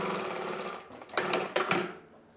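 A VMA V-0303ED-4 industrial sewing machine stitches to the end of a seam, a steady close mechanical whirr that stops, then a few sharp clicks and clunks of thread clamping and trimming.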